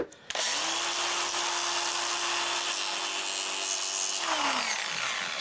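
A bench grinder spins up with a sharp whine, grinds steadily and loudly for about four seconds as a bicycle cable end is cut off, then winds down.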